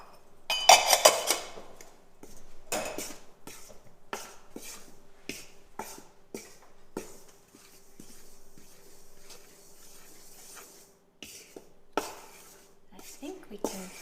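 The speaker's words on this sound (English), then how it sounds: "And you can stir all that up together." Cinnamon, allspice, cloves and ginger are stirred together in a bowl, producing a run of light clinks and taps from the spoon against the dish, loudest at first, then sparser, with faint talk at times.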